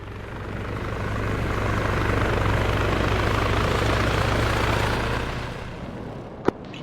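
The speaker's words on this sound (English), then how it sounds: "There's heli reinforcements coming back as well now." Helicopter reinforcements in the ARMA 3 video game approach with a loud, steady rotor drone that swells and then fades, followed by a single sharp click near the end.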